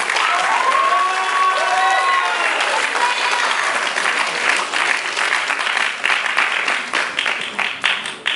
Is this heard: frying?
no